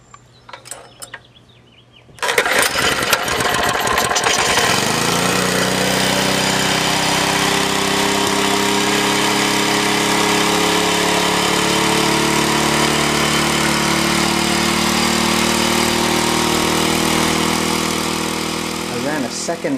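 A gasoline engine fitted with water spark injectors cranks and catches after a quiet start, then settles into a steady, loud, close idle that holds for the rest of the clip.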